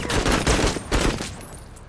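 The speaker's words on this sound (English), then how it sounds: "Let's just take the most accurate shot here." Gunfire in the MENACE tactical war game: several heavy, booming shots in quick succession, loud and close, each with a rumbling tail, with no talking.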